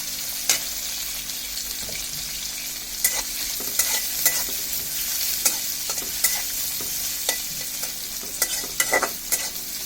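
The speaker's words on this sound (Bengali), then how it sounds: "চিংড়িগুলোকে পেঁয়াজের মধ্যে ভালোভাবে হালকা একটু ভেজে নেব।" Prawns frying lightly with onions in a pan give a steady, close sizzle with frequent sharp pops and the scrape of stirring, running on evenly with no talk.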